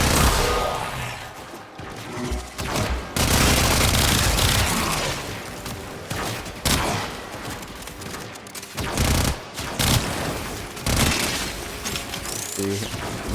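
Loud, dense bursts of weapon fire and mechanical clatter from a pistol in the game Warframe, firing in rapid clusters with brief gaps, while a voice talks faintly underneath.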